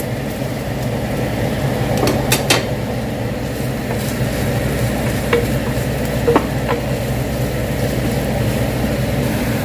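Mushrooms stir-fried in a pan with onions and ginger garlic paste, a steady close sizzle with occasional sharp scrapes of a spoon against the pan, no voices.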